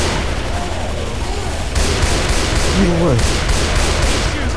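Loud, continuous gunfire aimed at the Tank in the video game Left 4 Dead 2, a thick barrage of rapid shots over game noise, with players briefly talking during it.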